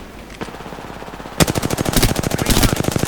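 Rapid automatic gunfire in Apex Legends, a dense run of sharp, evenly spaced shots that bursts in loud after a faint single report and keeps hammering to the end.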